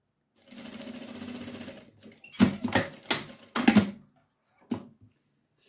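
A sewing machine stitches a border onto a baby bib: a steady whirring run first, then several short, sharp bursts of stitching separated by pauses, close and clear.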